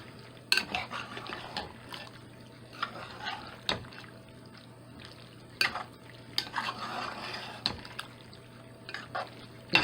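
Cooked macaroni goes into a pot of tomatoes and is stirred, giving intermittent wet scraping, spoon clinks against the pot and soft sloshing, close and fairly quiet, with no talk.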